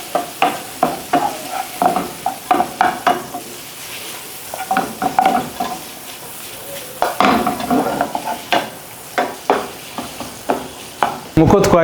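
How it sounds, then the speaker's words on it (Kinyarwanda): Chicken and penne pasta frying together in a pan, a loud sizzle under rapid rhythmic scraping and clanking of a spatula against the pan, ending in a sharp metallic clatter. "Tukazifryinga kugeza zihiye."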